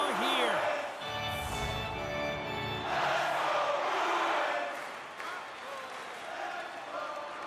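A hockey arena crowd in the NHL 24 video game voices a rumbling, sustained jeer in waves under a commentator's continuous play-by-play, swelling and fading across the moment.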